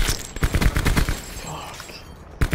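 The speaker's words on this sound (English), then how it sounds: "Oh god, I'm getting shot at, oh, he's inside!" Gunfire in Call of Duty Blackout, a battle royale game, comes as a rapid burst of close, loud shots, followed by a lull and one more sharp shot, with a player talking over it.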